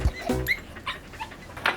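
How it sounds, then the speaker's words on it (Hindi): A cartoon dog whimpers in a few short, high, whiny yelps spread across a brief moment, fairly close and clear with no talking over it. "ओए ये मजदूर का कुत्ता है,"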